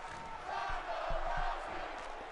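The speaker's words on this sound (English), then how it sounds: "We already got Ronda Rousey chants in the crowd." A virtual arena crowd in WWE 2K19 chants for Ronda Rousey during her match against Dana Brooke, a rhythmic, moderately distant roar of voices with a few dull thuds underneath.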